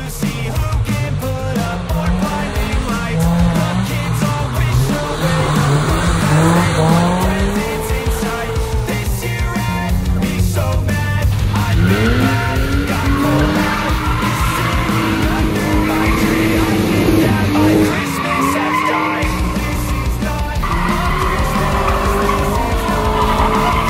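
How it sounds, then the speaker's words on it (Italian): A car drifts at night on a winding mountain touge road, tires squealing in long sweeping wails over a loud, revving engine that rises and falls throughout, close and continuous. "ora gustatevi le altre sgommate"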